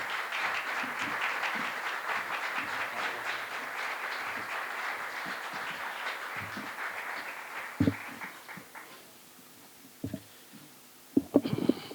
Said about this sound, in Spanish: Con un fuerte aplauso recibimos al señor Ángel Fernández.